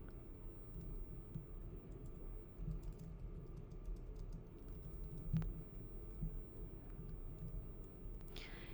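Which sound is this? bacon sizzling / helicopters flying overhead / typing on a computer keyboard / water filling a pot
typing on a computer keyboard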